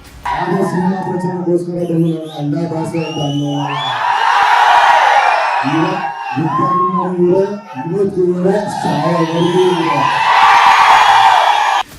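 Crowd of fans cheering and chanting for Kannada actor Dhanveer, loud, rhythmic call-and-response shouts alternating with bursts of whooping and yelling close by.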